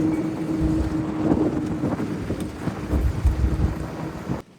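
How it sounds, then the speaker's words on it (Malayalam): Wind blows steadily and gustily out on the deep sea aboard a gillnet fishing boat, with a low rumbling boat engine underneath. No one speaks. "കാറ്റ് ചെറിയ രീതിയിൽ സ്റ്റാർട്ട് ചെയ്തിട്ടുണ്ട്."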